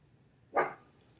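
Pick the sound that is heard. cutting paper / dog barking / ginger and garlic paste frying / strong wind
dog barking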